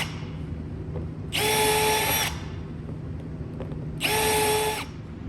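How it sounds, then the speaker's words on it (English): A power drill bores holes through wood guided by a cribbage board jig, two loud whining bursts of about a second each separated by a quieter pause, with no talking. "So now it's just drill, drill, drill, drill, drill, until I got the whole jig filled in."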